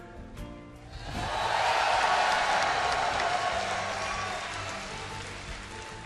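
A large arena crowd at the BlizzCon 2011 StarCraft 2 grand final erupts into a broad wash of cheering and applause that swells quickly, holds loud, then slowly eases off.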